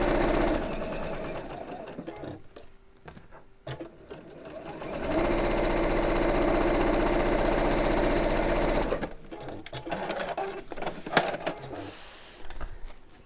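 A sewing machine stitches across the bottom three sides of a fabric piece, running in a loud, steady whir for several seconds between shorter stop-start bursts and handling noises.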